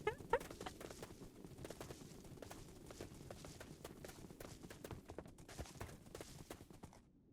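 Horse hooves in Minecraft, a steady clip-clop of galloping steps running throughout, moderately close, with a few faint bird or chicken calls near the start.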